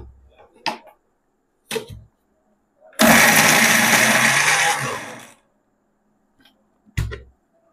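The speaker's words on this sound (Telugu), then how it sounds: "ఇప్పుడు కొంచెం కొంచెం మిక్సీకి వేసుకుంటున్నాను." A kitchen mixer grinder whirs loudly for about two seconds while grinding curry leaves, cumin seeds and urad dal for a spice powder, set between short clicks and knocks of handling before and after.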